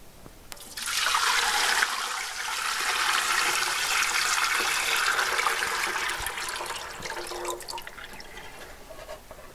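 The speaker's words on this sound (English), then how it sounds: "we're gonna just take this out and dump it out in the sink" Water from an AeroGarden bowl pours out into a nearby sink in a loud, close rushing gush that holds steady for several seconds, then thins to a trickle and drips, with no talking.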